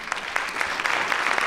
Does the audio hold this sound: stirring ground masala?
no